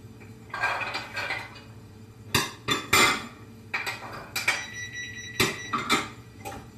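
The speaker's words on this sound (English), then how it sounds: "I'm just going to throw in all my vegetables, including my ginger and jalapenos in, except the peas" Vegetables with ginger and jalapenos are dropped into a hot pan in several bursts, each a sharp clatter of pieces hitting metal followed by a brief sizzle, separated by quieter pauses.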